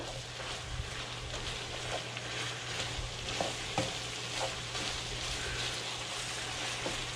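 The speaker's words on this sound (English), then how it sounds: "I'm just going to stir this dish up now until it's all evenly mixed." Pork and potato pie filling stirred in a hot pan, a steady sizzle with soft scraping stirs and occasional clicks of the utensil, moderately close and continuous with no talking.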